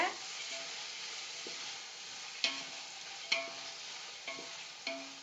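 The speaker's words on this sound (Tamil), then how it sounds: "இது வதங்கட்டும், நல்லா வதங்கட்டும்" About 400 grams of onions fry in a pan for chicken biryani, a steady loud sizzle with occasional sharp scrapes and knocks of a spatula against the pan.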